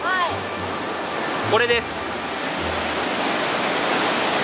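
A swollen river rushes at very high water under the Natural Bridge rock formation in Yoho National Park, a loud, constant broadband roar, with a person speaking briefly over it.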